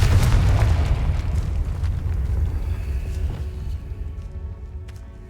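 A Confringo blasting spell explodes in Hogwarts Legacy, a single loud, deep boom at the start that rumbles and slowly fades over several seconds.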